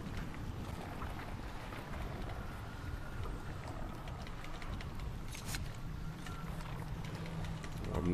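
A boat moves over water in the video game Hunt: Showdown 1896, with a constant wash of water and hull noise that stays steady and fairly loud throughout, with faint clicks and no clear talk.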